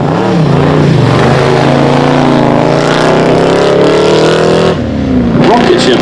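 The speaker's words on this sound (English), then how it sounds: "It's a 430, but that's a Scud, which is a very rare stripped out race version." A Ferrari 430 Scuderia, the rare stripped-out race version, roars close by under hard acceleration, its engine note climbing steadily for several seconds before a brief lift and another surge, loud and continuous throughout.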